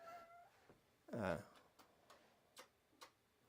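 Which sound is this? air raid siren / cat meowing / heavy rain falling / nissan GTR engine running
cat meowing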